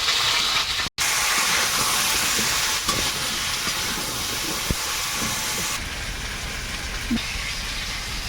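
Taro and potato pieces fry in oil with salt and turmeric, a loud continuous hissing sizzle with a brief cut near the start and a quieter stretch toward the end.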